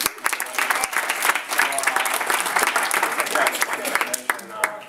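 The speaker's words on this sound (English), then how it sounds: "I just want to give a round of applause again to Teresa and Natasha." Applause from an audience at a real estate investors' meeting in New York City, a steady patter of clapping mixed with people talking over it.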